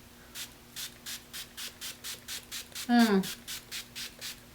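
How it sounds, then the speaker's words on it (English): Project Beauty Spray Set Go setting spray being misted in a rhythmic run of short, evenly spaced hissing pumps, with a brief voice cutting in partway through. "It's add a setting spray."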